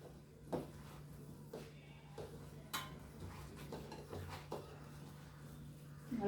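A spoon scrapes and knocks against a cooking pot while salt and curry leaves are stirred in, irregular clinks and scrapes over a steady low hum, close and moderately loud, no talking.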